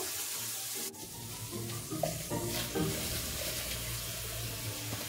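Puréed onion hits a hot pan while cooking wild boar sausage with quince, giving a soft, steady sizzle with faint stirring and clinks close by.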